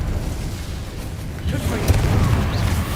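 An Incendio fire spell in the Hogwarts Legacy video game bursts with a low whooshing, rumbling roar that swells midway amid constant loud combat noise, with a voice talking over it.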